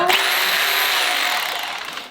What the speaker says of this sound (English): we're gonna plug in a hammer drill